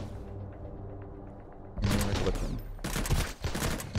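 Gunfire from a newly crafted gun in the video game Sunkenland: after a quiet stretch, loud dense bursts of rapid shots erupt, with a short break before a second heavy volley.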